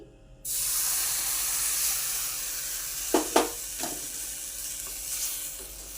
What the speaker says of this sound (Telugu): ఇప్పుడు ఇందులోనే మిల్క్ యాడ్ చేద్దామండి